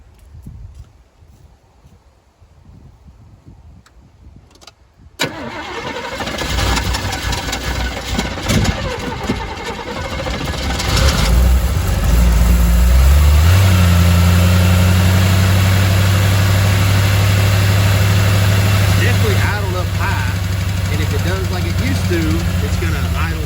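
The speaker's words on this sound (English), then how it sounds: "It's gonna idle down and then die. Yep, idle high, then idle down and die." A 1985 Chevy C10 square-body pickup engine starts after a quiet moment, then idles fast and loud with a steady low drone that settles into a lower, rougher idle, close to the truck.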